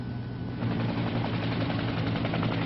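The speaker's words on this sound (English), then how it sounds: "a television news camera helicopter overflew the crash site" Television news camera helicopter flying over a military aircraft crash site after a nuclear weapons accident, a steady loud rotor chop throughout, in an archival film soundtrack.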